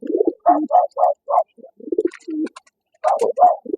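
Arabian tumbler pigeons give soft, close, repeated throaty coos in short rhythmic bursts with brief pauses between, and no talking.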